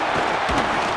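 A stadium crowd roars steadily and loudly for a punt return in an EA Sports College Football game, a dense wash of cheering with no break.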